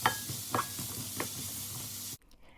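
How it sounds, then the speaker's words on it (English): Vegetables sizzling in olive oil in a skillet for a sausage and vegetable one-pan meal, a steady hiss with soft scraping stirs and a few clinks, then cutting off abruptly near the end. "Let's give this a quick mix, making sure it's coated in the oil."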